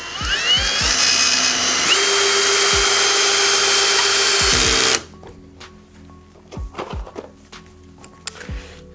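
A Vitals Professional AU 1860Pbt cordless drill-driver drives 4.2 by 80 mm screws at its lowest torque setting, whining loudly and steadily for about five seconds before stopping, followed by quieter clicks and handling knocks.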